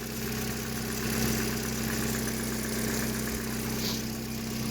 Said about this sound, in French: C'est juste moi ou il y a un bruit bizarre à la courroie là?